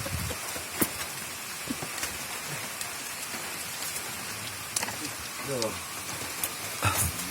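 Steady rain falls during an outdoor meal, a broad continuous hiss with scattered drop taps and a few louder knocks, while people talk intermittently in the background.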